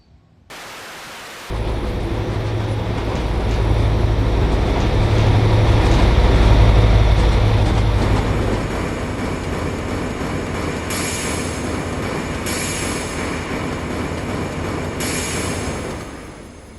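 An NZR DA class diesel locomotive train rumbles along in Train Simulator, a loud low engine drone with steady rolling wheel noise and hiss, swelling mid-way before settling, with high screeching flares near the end.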